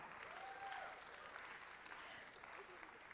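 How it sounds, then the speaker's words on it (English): Audience applause for finalists at an evening innovation and social good event, moderate steady clapping with some background voices mixed in. "Let's give them a warm applause"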